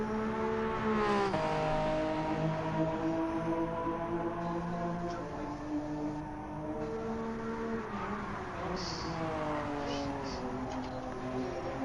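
A race car's engine revs in a replay from a racing video game at Brands Hatch, with the pitch climbing and dropping through gear changes in a sustained loud drone.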